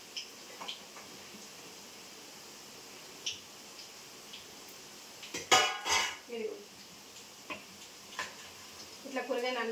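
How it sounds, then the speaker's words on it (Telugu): Chopped okra, bottle gourd, tomato, green chillies, curry leaves, coriander, mint and onion pieces drop into a cooking pot, giving scattered soft thuds and clinks of metal utensils against the pot at close range. "ఇప్పుడు దీంట్లో ఇదిగోండి కూరగాయ ముక్కలన్నీ బెండకాయ, సోరకాయ, టమాటా, పచ్చిమిర్చి, కరివేపాకు, కొత్తిమీర, పుదీనా, ఇంకా ఉల్లిపాయ ముక్కలు అన్నీ వేస్తున్నా"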